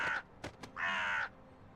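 A crow in a video game caws near a rocket: a short harsh call, two quick clicks, then a longer drawn-out rasping caw, close and loud with no talk over it.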